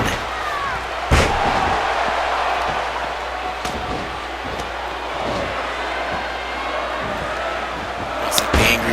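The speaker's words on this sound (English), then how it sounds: "Nice back suplex" A back suplex in a wrestling video game featuring Razor Ramon lands with a sharp slam over a steady roar of arena crowd noise, and a second thud follows near the end.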